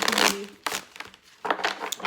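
Tarot cards being shuffled by hand, giving bursts of papery riffling and crinkling in three short clusters with quiet gaps between, close and fairly soft, with no talking.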